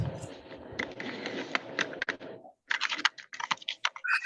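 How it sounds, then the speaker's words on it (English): Keyboard typing on a computer during an online town hall meeting, a fast run of crisp key clicks that pauses briefly and then resumes, fairly close and loud, with no speech over it. "Somebody's typing in a"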